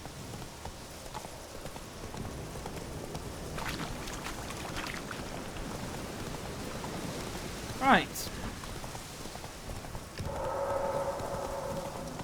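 Roach the horse clip-clops steadily along in The Witcher 3, hooves plodding at an even pace over a backdrop of rain, with a brief spoken word and one sharp sound cutting in near the end.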